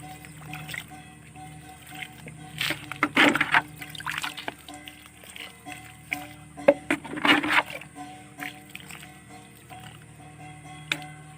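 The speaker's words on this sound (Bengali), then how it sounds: "এবার আমি জলটা দেবো ফাঙ্গিসাইড মিশ্রিত জল।" Water mixed with fungicide trickles and splashes in small uneven bursts onto the soil of a potted dragon fruit plant on a rooftop garden, quiet and close over a faint background hum.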